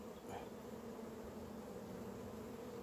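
Honey bees buzz around a hive during a first inspection, a soft continuous hum that stays even and steady throughout, fairly faint with no voices.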